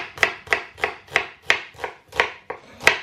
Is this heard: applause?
no